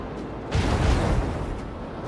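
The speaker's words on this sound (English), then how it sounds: "Macro cannon," A macro cannon volley in the Rogue Trader video game, a deep booming explosion rumble that swells after a brief lull and rolls on for over a second before fading slightly.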